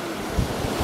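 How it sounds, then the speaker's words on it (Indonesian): Ocean surf on Anyer beach, Indonesia, on a quiet weekday: a brief, steady wash of breaking waves mixed with wind buffeting the microphone, with no voices. "Kondisi pantai Anyer nih."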